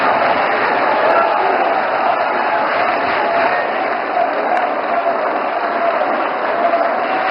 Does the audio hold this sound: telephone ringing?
no